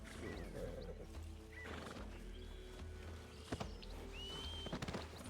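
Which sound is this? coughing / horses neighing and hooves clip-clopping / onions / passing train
horses neighing and hooves clip-clopping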